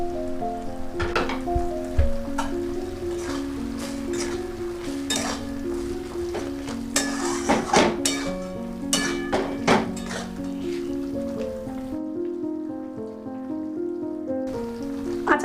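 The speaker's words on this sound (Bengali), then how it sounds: "আচারটার লিড লাগিয়ে নিয়ে 5 থেকে 7 মিনিট ফুটিয়ে নেব" Elephant apple pickle bubbles in a lidded pan over a medium-low gas flame, giving a soft patter like rain on a surface, with a sustained tonal hum and scattered clinks, close and steady, without talk.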